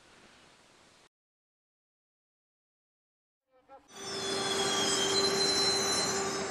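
A train on the St Petersburg–Helsinki railway line passes after a silent gap, its rolling rush rising to a loud, steady roar with a sustained wheel-squeal tone.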